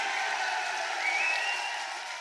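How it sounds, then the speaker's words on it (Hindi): A political rally crowd applauds in a steady, dense wash of clapping that holds evenly at a moderate level from start to finish, with no voice rising above it. "और जोर से ताली बजाइए।"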